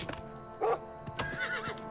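A horse whinnies sharply in the video game The Elder Scrolls IV: Oblivion Remastered, with a second neigh following, amid hoof clip-clops and faint ambient noise.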